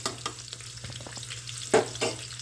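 Green chillies crackle and sizzle in hot oil in a pan while cooking a festive Raksha Bandhan meal, with scattered sharp pops and stirring scrapes over a steady low frying hiss, close and fairly quiet.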